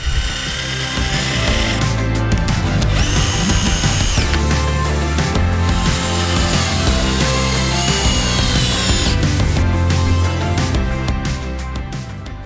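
A power drill driving screws that fasten a cut piece of pallet wood onto a pallet base as a step makes loud, close whirring bursts with grinding, ratcheting textures, stopping and starting repeatedly without a break in the noise.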